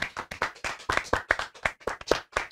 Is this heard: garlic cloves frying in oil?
no